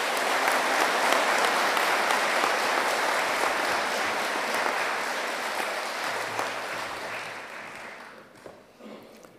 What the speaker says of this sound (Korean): 여러분들 뜨거운 박수로 맞아주시길 바랍니다